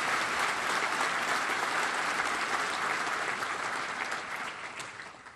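Sustained audience applause fills a law enforcement awards ceremony hall, a dense steady wash of many hands clapping that holds loud and even before easing slightly toward the end, with no voices on top.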